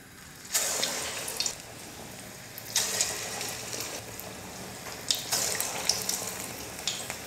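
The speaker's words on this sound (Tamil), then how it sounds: "எண்ணெய் நல்லா காஞ்சிடுச்சு. இப்போ போண்டா போட்டுக்கலாம்." Small bonda dough balls dropped into hot oil give soft, hissing bursts of sizzle that rise and settle in several waves, fairly quiet and without talk.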